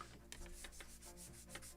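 Sandpaper rubbing along a wooden plank on the hull of a planked model kit of the 1776 gunboat Philadelphia, a close, steady run of short scratchy strokes with no talking.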